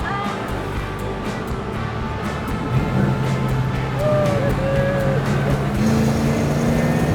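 A 1972 family car drives along in second gear, its engine a steady low drone with a rising whine partway through, heard from inside the cabin with faint talk underneath.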